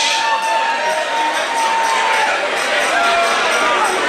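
A crowd at a prize-giving ceremony erupts in loud, steady cheering and applause for a winning group, with shouts and whistles rising over a continuous wash of clapping throughout.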